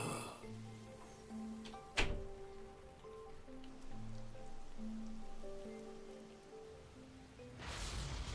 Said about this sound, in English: The rain is back.